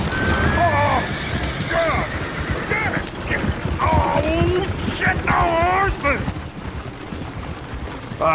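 Horse sounds in Red Dead Redemption 2, with whinny-like rising and falling tones and busy clopping and rattling, all running under steady talk throughout.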